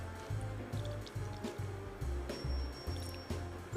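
Apple cider poured over a ham in a kitchen, a steady close liquid splashing and trickling with a few brief pauses and surges, no voices.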